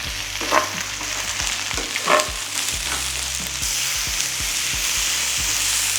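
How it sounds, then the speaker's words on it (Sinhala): Mushrooms sauté over high heat in a pan with a little oil, giving a steady loud sizzle broken by several sharp stirring scrapes, with no talking. "මේක හයි හීට් එකෙන් මම මේක පොඩ්ඩක් සෝට් කරගන්නවා"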